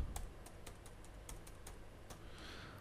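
A password is typed on a computer keyboard, about a dozen quick, light key clicks in an uneven rhythm, close and fairly quiet over faint room hum, with no talking.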